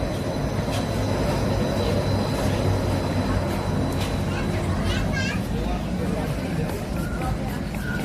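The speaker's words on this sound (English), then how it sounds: "Monorail." Disneyland Resort monorail rolling past, a steady rumbling rail noise with faint wheel squeals beneath crowd chatter and nearby voices throughout.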